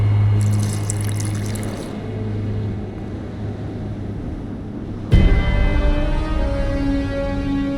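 Water is poured into a flask in The Witcher 2, a steady liquid trickle over a low ambient hum. A sharper splash comes partway through, then the flow continues.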